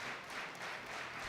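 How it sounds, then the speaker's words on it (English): The crowd at the 2022 European Powerlifting Championships roars and applauds behind a lifter, a steady, fairly distant wash of cheering and clapping with no clear individual voices. "And the crowd are getting behind him. Listen to the noise."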